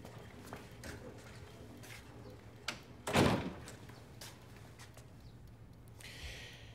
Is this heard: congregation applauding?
no